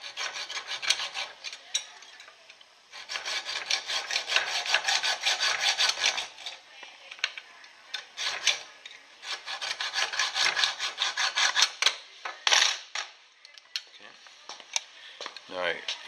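Hand sawing through a small piece of mild steel clamped in a vise, steady back-and-forth strokes at close range in sustained runs with short breaks, ending in a few scattered scrapes; no speech.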